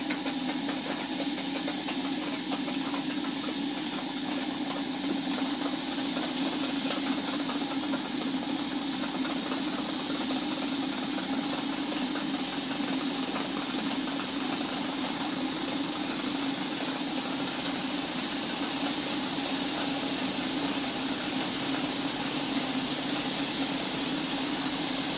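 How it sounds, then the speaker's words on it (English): A model steam engine runs steadily on a test plant, giving a continuous even mechanical hum and chuffing with no pauses, fairly loud and close throughout, with no voices. "I'm going to stop talking in the engine runs."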